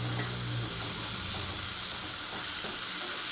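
Tomato frying with onion in a pan for cabbage bhaji gives a constant, dense, close sizzle with no voices.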